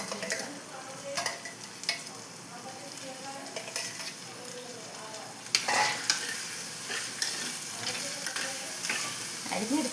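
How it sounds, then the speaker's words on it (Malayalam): Squid pieces fry and sizzle steadily in hot oil, a close, continuous crackle broken by sharp clinks and scrapes of stirring against the pan. "എണ്ണ ചൂടായിട്ടുണ്ട്. നമുക്കിത് ഇട്ടോട്ടിട്ട് ഒന്ന് ഫ്രൈ ആക്കി"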